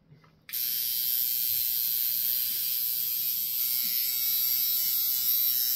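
A coil tattoo machine tuned soft for shading switches on and runs with a steady, close, buzzing electric hum that holds even and loud with no talk.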